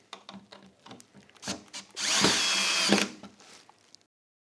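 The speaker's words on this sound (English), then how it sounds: "I'm going to screw that down." A power drill drives a screw into a wooden bottom rail of a wooden tumble-track toy: a few light knocks and handling taps, then one loud whirring burst of about a second that stops abruptly.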